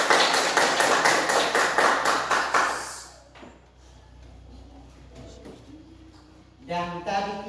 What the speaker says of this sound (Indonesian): Kita berikan tepuk tangan dulu sudah.